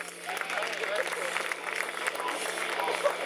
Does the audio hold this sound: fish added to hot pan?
no